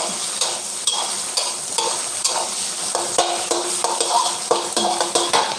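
Eggs frying in a hot pan, a continuous loud sizzle broken by repeated metallic scrapes and stirring clinks of a spatula against the pan, with no talk.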